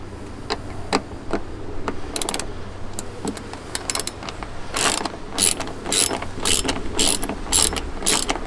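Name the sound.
ratchet with Torx T20 bit removing brake light screws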